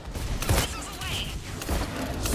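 Missiles launch in Mass Effect 3, a dense cinematic mix of whooshing launches and thumps with swirling streaks, loud and continuous over a rumbling battle backdrop.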